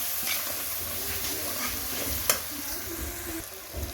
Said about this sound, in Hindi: अब हम 5 मिनट इसकी अच्छी भुनाई करेंगे।